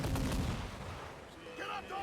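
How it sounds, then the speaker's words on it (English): Ship cannons fire in a naval battle in Assassin's Creed IV Black Flag, a loud booming blast up front that rolls off into a rumbling tail, with faint voices rising near the end. "Pipe to quarters. All hands to cannons."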